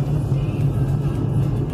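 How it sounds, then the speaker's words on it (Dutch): A car drawing near, a steady low engine rumble held at a constant level throughout, with no voices. "er komt de auto aan"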